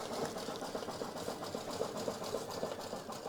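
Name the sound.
embroidery machine stitching turkey earrings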